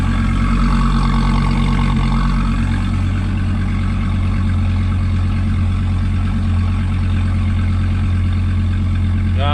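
A Dodge Viper with its stock exhaust idles in a deep, steady, throbbing rumble, loud and close, holding an even tone throughout.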